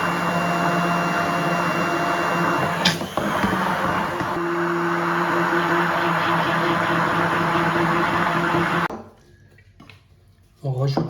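An electric mixer blends a salted-butter caramel ice cream base with a steady, loud, droning motor whine that runs continuously, then cuts off abruptly, followed by brief clattering.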